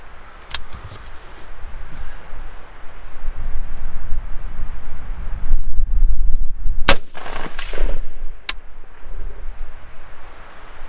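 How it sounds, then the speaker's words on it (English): A BCA 20-inch M16A3 clone fires Hornady M193 ammunition outdoors. Three sharp, loud rifle shots crack at uneven intervals over wind and background rumble. "So we're going to go ahead and take a 3-round group."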